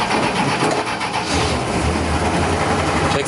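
A Dodge 300 Club Cab one-ton dually truck engine runs steadily at close range, a loud continuous low rumble with mechanical noise throughout and no talking.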